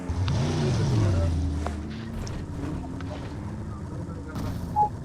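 A vehicle engine roars in a video game match, with an early revving sweep that climbs in pitch and then settles into a steady, loud drone.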